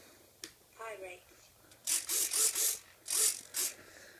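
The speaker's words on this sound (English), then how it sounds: "Use a little micro servo in there for" A micro servo steering the nose gear of a Durafly Cessna 310 RC model plane whirs and clicks mechanically in several short close bursts, with quieter ticking before them.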